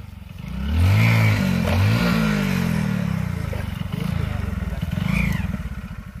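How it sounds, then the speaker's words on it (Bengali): A Hero Glamour motorcycle revs hard for a wheelie attempt, its mid-pitched engine climbing and falling in several loud close pulls, with voices and clatter mixed in. "তো আরেকবার ওই হুইলিটা মারার চেষ্টা করবে"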